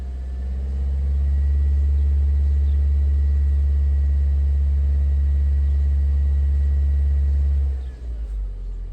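A 2015 Nissan Altima with a 2.5L engine revs up to about 2,000 RPM, a loud, steady low drone held close for several seconds before dropping away near the end.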